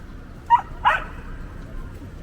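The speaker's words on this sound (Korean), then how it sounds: "강아지들 그냥" Dogs on a street in Batumi, Georgia, let out two short yapping barks close together, moderately near, over outdoor background noise.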